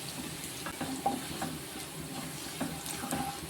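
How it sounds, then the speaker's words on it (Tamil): Garlic and cumin seeds fry in oil for a paneer masala, giving a steady close sizzle with light stirring scrapes and small clinks throughout, and no one speaking. "இது வெள்ளைப்பூடு வந்து ஒரு பொன்னிறமாக வர்ற அளவுக்கு வதக்கிக்கிறணும்."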